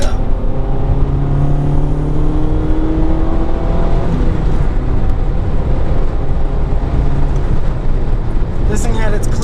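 A 1990 Honda Accord accelerating in third gear, a loud steady engine drone heard from inside the car with rising tones, under a driver talking.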